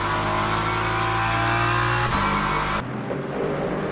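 BMW race car engines in a racing video game whine and rev hard at high pitch, holding a steady drone before cutting off abruptly to a quieter background.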